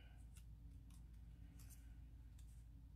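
Scissors cutting paper for card making, a few faint crisp snips spread over a steady low hum in a quiet room.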